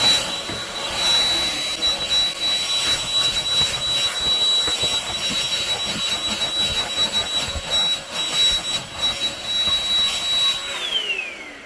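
A Ljuren P11 cordless vacuum cleaner runs on max mode with a steady, loud whine and a bright high tone held throughout, while air rushes and debris rattles over the floor, ending as the motor winds down.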